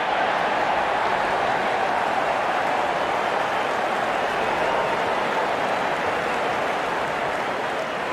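A good crowd at an India versus England T20 World Cup semi-final cricket match cheers and claps as the openers walk out, a steady, even wash of applause from a large stand throughout.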